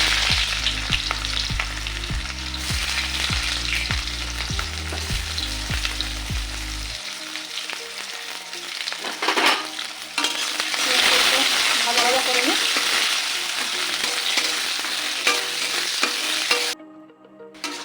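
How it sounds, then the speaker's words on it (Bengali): Chopped onions fry and get stirred in a pan with whole garam masala and two bay leaves, a steady close sizzle with scraping strokes throughout, under intermittent talk and a low droning tone in the first half. "পেঁয়াজটা হালকা লাল লাল ভাজা ভাজা হয়ে আসছে।"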